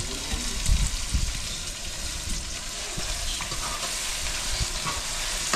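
Tomatoes and onions frying in a pan, cooked without spices in a village kitchen, giving a dense, continuous sizzle and crackle with a few low knocks of stirring. No voices.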